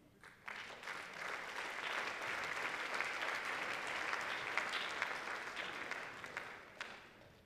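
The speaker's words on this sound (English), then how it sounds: "The applause for them, please." An audience at a talk on privacy and the data industry claps in sustained applause, a steady wash of many hands lasting several seconds before it fades out.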